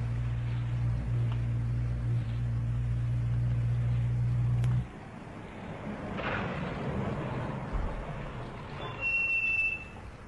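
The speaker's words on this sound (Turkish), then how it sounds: "O ses ne? Marsilya otobüsü geliyor." A large bus pulls up on a rainy night in a radio crime drama, heard as a steady low engine drone that cuts off abruptly, followed by hissing rain and a brief high squeal like air brakes.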